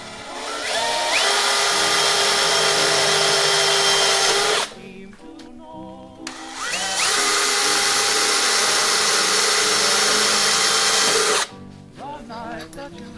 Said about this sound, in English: You want to let the drill do the work and not force it.